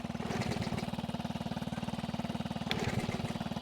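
A Honda Z50A minibike's small single-cylinder engine runs at a fast, steady putter, close by and moderately loud, with a few faint knocks over the even beat and no talk.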